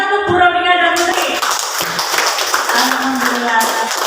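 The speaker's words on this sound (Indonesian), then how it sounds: "Tepuk tangan untuk Bu Robinga dan Putri." An audience claps for two presenters at an Indonesian teacher-training session. A voice speaks briefly, then steady, moderately loud applause of many hands rises and continues to the end.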